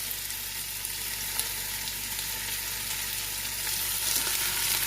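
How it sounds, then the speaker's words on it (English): An Instant Pot set to sauté gives off a steady, soft sizzling hiss that holds even throughout, with a faint low hum beneath it and no talking. "I've put the Instapot on to saute."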